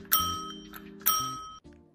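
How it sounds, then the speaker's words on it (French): A bicycle bell is rung twice by pressing its button, two bright metallic dings about a second apart, each ringing out and decaying, close and clear with no talking. "La sonnette se trouve juste ici et pour l'actionner,"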